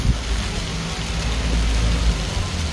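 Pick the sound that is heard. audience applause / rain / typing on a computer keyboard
rain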